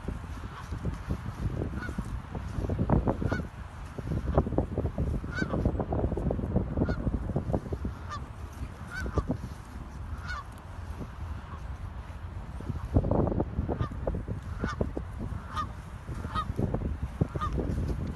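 Geese honk repeatedly in an outdoor flock, a steady stream of short overlapping calls at moderate distance throughout.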